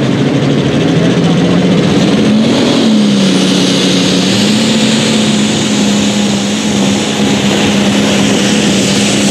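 A pulling tractor on a 1066 alcohol-fuelled setup roars at full power during a pass at a Hopkinsville, Kentucky tractor pull. The engine's pitch wavers as it strains, loud and sustained, with crowd and arena noise behind.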